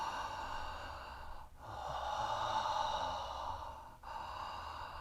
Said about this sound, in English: You're gonna open your mouth and do an HA inhale and exhale